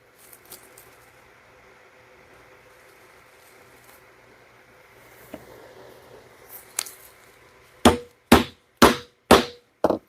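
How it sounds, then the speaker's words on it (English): Hammer striking a hole punch through leather: about five sharp, loud whacks in quick succession near the end, following quiet handling noises. "Get a couple of whacks. That hole is punched."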